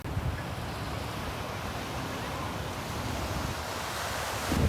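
Ocean waves washing onto a beach, a steady broadband roar of surf mixed with wind buffeting the microphone, continuous and close with no talking.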